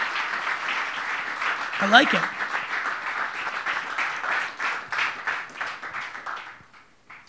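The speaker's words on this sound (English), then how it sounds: "everyone give him a round of applause" Conference crowd at a business event gives a round of applause as a man is called up on stage, a sustained dense clapping with cheers and talk mixed in, tapering off near the end.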